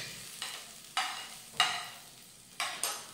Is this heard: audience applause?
no